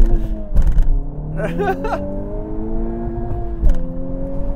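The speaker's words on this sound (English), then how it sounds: "For this last launch, I'm going to try just sidestepping the clutch, see what happens." A car is launched hard by sidestepping the clutch. The engine note climbs steadily under full acceleration, with a couple of sharp broadband thumps near the start and again near the end.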